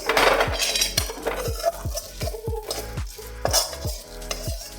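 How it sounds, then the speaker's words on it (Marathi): Sabudana khichdi stirred in a pan with a spoon, a steady run of scraping strokes against the metal, close and fairly loud, with faint sizzling underneath and no voice. "एक पाच दहा मिनिट आपण वाफून घेणार आहे छान मिक्स करायची"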